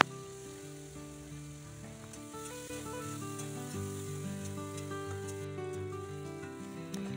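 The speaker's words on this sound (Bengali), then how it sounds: "ওই তেলের মধ্যে দিয়ে দিলাম সামান্য জিরে ফোড়ন, দিয়ে দিলাম পেঁয়াজ আর লঙ্কা," Cumin seeds, onion and chili hiss in hot oil in a home kitchen pan, a soft continuous sizzle under a layer of tonal background music, fairly quiet and even.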